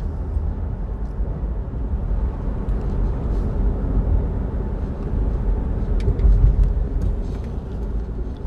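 Steady, rumbling traffic on the Fortaleza expressway in Ceará, Brazil, with a truck close by. Engines and tyre roar form a continuous wash with slight swells and no clear voices.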